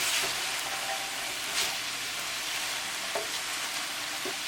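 Mushrooms and French beans fry with tempering in a pan, a dense, steady sizzle like rain, with a few soft scraping stirs and occasional spatula taps.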